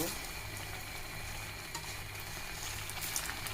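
Potato snacks frying in hot oil give off a steady, even sizzle with fine crackling, continuous and fairly quiet with no talking.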